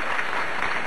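Crowd at a chief minister's Vikas Yatra political rally in Nagri, Dhamtari, applauding with steady, dense clapping that fills the whole moment without a break.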